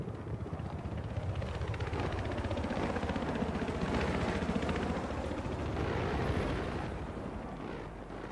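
A helicopter in Battlefield 3 gives a loud, steady rotor and engine rumble with a dense low thrum. It holds for several seconds, then eases slightly near the end.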